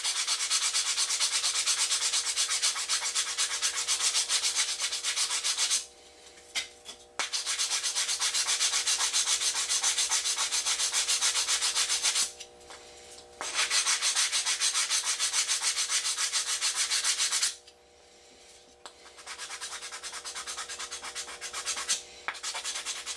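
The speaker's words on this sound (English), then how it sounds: "These little sanding blocks are great." A small sanding block is rubbed back and forth along the edges of a Top Flite P51 ARF model airplane. The scraping is loud, close and steady, with three brief pauses between strokes.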